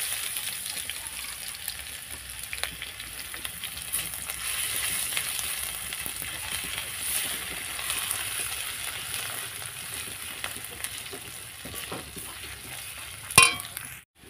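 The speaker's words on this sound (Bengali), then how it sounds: "লাল লাল করে ভাজা হয়ে গেছে" Meat masala with ginger paste sizzles and fries steadily in a pan, with occasional stirring scrapes and a sharp metallic clang near the end.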